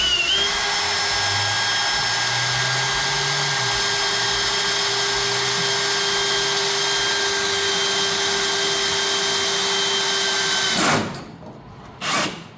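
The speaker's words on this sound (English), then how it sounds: "I'm just going to drill a hole about here and start there." A power drill runs continuously for about eleven seconds, drilling a hole in the front clip of a 1958 car, a loud steady whine that stops, then a brief second burst near the end.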